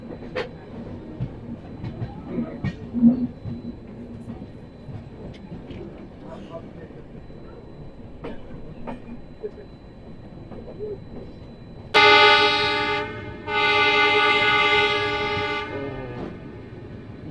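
The Ahmedabad Express, train 19484, rolls through dense fog with a low rumble and faint scattered knocks. Near the end, a loud horn blares twice, the second blast longer, after a cow stood on the track ahead.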